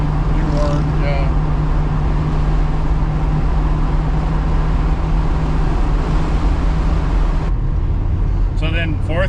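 A 1966 Mustang fitted with Holley Sniper fuel injection accelerates hard, heard from inside as a loud, continuous engine roar that steadies before a gear shift near the end, with people talking over it.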